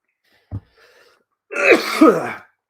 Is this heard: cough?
yes